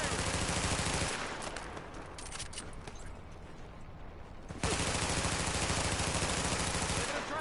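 Dense automatic gunfire in The Division roars loud and continuous, thins to scattered, quieter shots for a few seconds in the middle, then surges back at full intensity.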